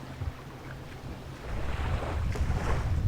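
A pump pushes air into a chamber of a Sea Eagle FastTrack 385ft inflatable kayak, making a steady, close rushing-air noise that swells louder about halfway through. No one speaks.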